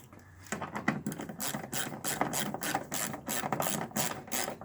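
A ratchet fastens bolts on a Volkswagen AdBlue reductant tank, giving rapid, steady rhythmic clicking bursts close by, with a brief quiet moment at the start.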